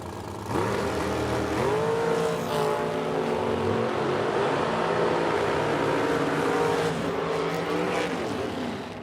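Drag racing cars, including a '68 Camaro, launch down the strip with a loud engine roar, rising and sustained revving that holds for several seconds before fading.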